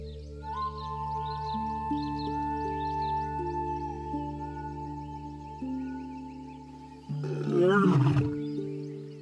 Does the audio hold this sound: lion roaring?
yes